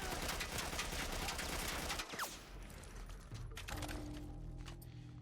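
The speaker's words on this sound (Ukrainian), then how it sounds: "Як ви так гарно стріляєте?" Gunfire in the video game The Last of Us Part 1, with a loud, rapid, dense burst of shots that cuts off sharply, then quieter mechanical game sounds and scattered pops.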